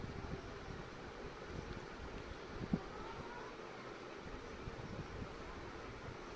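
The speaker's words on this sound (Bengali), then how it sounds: "তেল গরম হয়ে গেছে, এবার ছেড়ে দিচ্ছি।" Vegetable fritters deep-frying in hot oil over a low flame give a steady, fairly quiet broadband sizzle and bubbling that lasts throughout, with one brief click near the middle.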